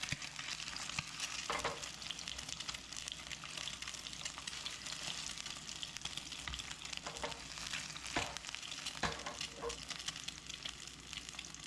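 Eggs frying in a pan for a cheap breakfast, a steady broadband sizzle throughout with occasional scraping clicks of a spatula as they are turned.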